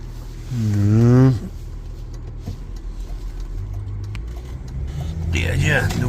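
A tall vehicle approaches along a road, its engine rising from a quiet hum into a louder, nearer rumble toward the end, with a voice talking over it at the start.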